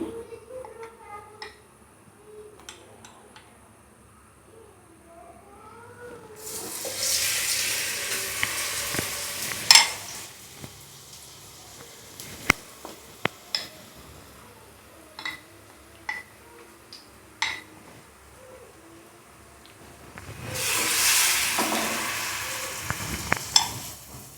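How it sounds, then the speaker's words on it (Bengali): A batter-dipped bread slice fries in a pan of oil over low heat, giving bursts of loud sizzling that swell and fade twice, with scattered small clicks and taps in between. "দিয়ে দিচ্ছি এখানে একটা রুটি, বেটার মধ্যে এভাবে চুবিয়ে"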